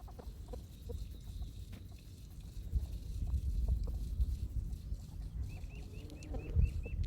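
Chickens cluck softly outdoors amid rustling and background noise, with a few brief higher calls near the end.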